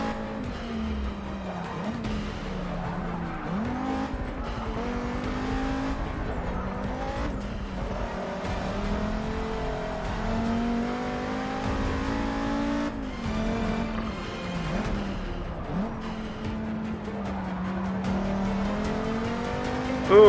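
Race cars in the Forza 6 video game, engines droning steadily at high revs with gear shifts, brief pitch dips and rises as the cars lap the track, loud and continuous.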